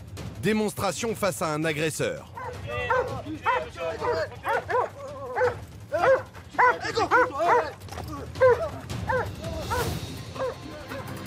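A 40-kilo Belgian Malinois police dog barks repeatedly and loudly during an attack demonstration against an aggressor, sharp bursts coming in irregular clusters, with someone speaking briefly amid the barking.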